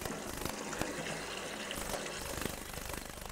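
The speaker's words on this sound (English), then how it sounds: "just run cold water over the top of them." Cold tap water gushing steadily over boiled noodles in a colander, a continuous splashing rush that holds constant throughout, close and fairly loud.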